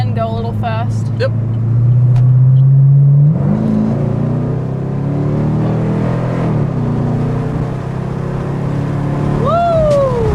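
A naturally aspirated V8 sports car accelerates hard from inside the cabin, the engine note climbing through the gears with shift breaks, loud and close, with a voice speaking briefly over it.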